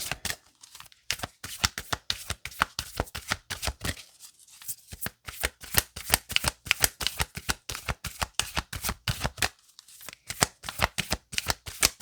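A deck of oracle cards is shuffled continuously in a rapid, even riffling rhythm, close and crisp, with brief pauses between bursts and no talking.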